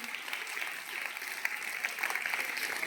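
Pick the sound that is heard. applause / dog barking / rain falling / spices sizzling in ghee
applause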